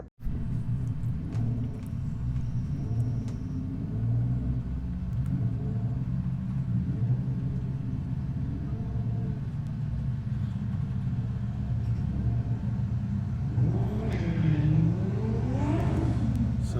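Drag car easing gently off the start line at Santa Pod Raceway during a test day, its engine rumbling and revving steadily up close, with no voices over it.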